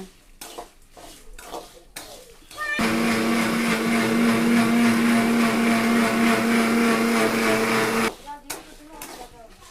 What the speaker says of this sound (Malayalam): ഇതാദ്യം മിക്സിയിലൊന്ന് നന്നായി പൊടിക്കൂട്ടോ